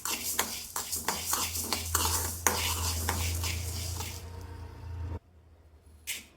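Coriander seeds dry roasting in a pan for Tamil sardine curry, with repeated scraping and stirring strokes of a utensil against the metal, a steady low hum beneath, then a sudden stop and one brief final scrape.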